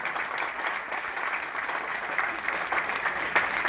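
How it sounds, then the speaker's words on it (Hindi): An audience claps steadily at the launch of the Garhwali movie Raibar in New Delhi, a dense, even wash of applause from a hall crowd throughout. "तालियां रेवा मूवी के लिए।"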